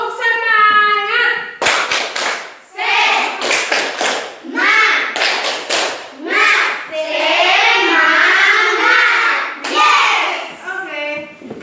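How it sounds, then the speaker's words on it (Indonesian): Schoolchildren in a classroom perform a rhythmic spirit clap, with bursts of sharp claps in patterned groups between loud chanting voices that are close and lively throughout. "Bu berikan tepuk semangat."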